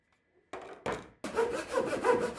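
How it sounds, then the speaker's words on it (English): A hand saw cuts cherry wood for a mallet with no power tools, starting with a couple of short rasping strokes and then settling into steady, close back-and-forth sawing. "I used my saw and guide blocks to cut out the length of the handle and pieces of the mallet head."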